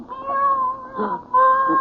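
A black cat meows close by, one drawn-out cry followed by a second after a short pause, loud and clear with no talking over it.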